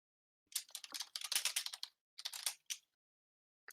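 Bursts of rapid keystrokes on a computer keyboard during a ranked League of Legends session, clattering in quick irregular runs with short pauses, close and fairly loud, with no voices over them.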